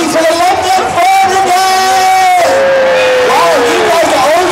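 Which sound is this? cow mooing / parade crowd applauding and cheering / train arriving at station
parade crowd applauding and cheering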